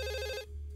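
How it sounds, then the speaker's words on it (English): Electronic telephone ring in the adventure game Dog Mendonça & Pizzaboy: one short, bright trilling burst that cuts off after under half a second, leaving a quiet low hum beneath. "I should probably pick up that phone."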